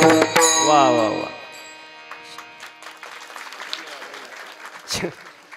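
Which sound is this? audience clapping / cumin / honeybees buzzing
audience clapping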